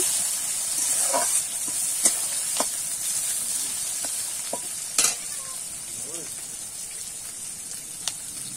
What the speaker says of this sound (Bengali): এবারে কিন্তু পেঁয়াজটা আমি লাল লাল করে ভেজে নেব।